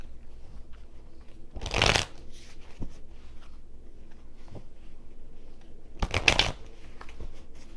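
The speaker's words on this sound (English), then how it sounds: "I'll go ahead and shuffle really quickly." Two quick bursts of tarot cards being shuffled, crisp riffling sounds close by, separated by a few seconds of quiet room tone.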